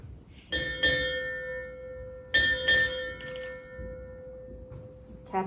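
A bright metallic ship's bell rings four times in paired strikes at a US Navy retirement ceremony, two quick rings then another two, each leaving a ringing tone that fades slowly.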